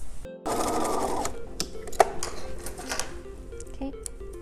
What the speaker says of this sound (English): I'm gonna sew this really quickly.